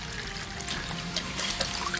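Water is drawn for a sample during an expedition searching for clean water, pouring and trickling steadily and quietly for a couple of seconds.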